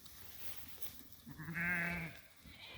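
A sheep in a grazing flock lets out a single wavering bleat, moderately close and fairly quiet against soft outdoor background noise.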